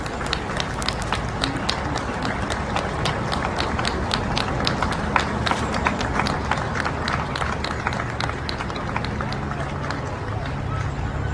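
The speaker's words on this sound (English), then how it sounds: "And let's hear the applause." Crowds lining the road in Scotland applaud as Queen Elizabeth II's coffin passes, a loud, dense and unbroken roar of clapping from many people that fills the whole stretch.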